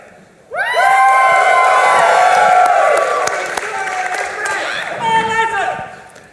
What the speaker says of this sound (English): I would like everyone cheering for House Kor-Azor to lift their voice to the sky.